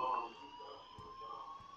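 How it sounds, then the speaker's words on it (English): Alarm in the video game Life is Strange rings as a steady electronic tone, held at moderate volume with brief faint speech-like sounds beneath it. "please turn off that alarm since that's your job"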